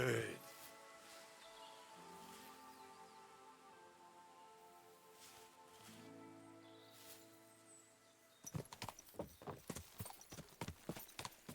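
Horse hooves clop in a quick, steady rhythm in the medieval game Kingdom Come: Deliverance 2, arriving near and loud after a long stretch of quiet, sustained background music.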